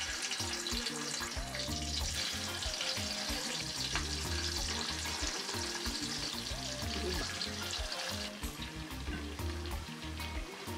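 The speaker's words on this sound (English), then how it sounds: "add meat, and fry for about 5 to 8 minutes or until your desired darkness" Goat meat chunks frying in hot oil in a pot for tasso, a steady, loud, dense sizzle that runs unbroken throughout, with low clatter and tonal music-like pulses underneath.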